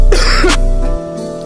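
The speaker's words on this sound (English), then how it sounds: "I had to cough on a motherfucking track" A harsh, loud throat-clearing cough over a rap music track, a single rough burst followed by the beat continuing underneath.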